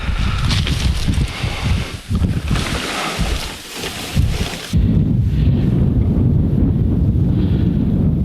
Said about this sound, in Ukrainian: Так, ось воно сідає і здуває вітром.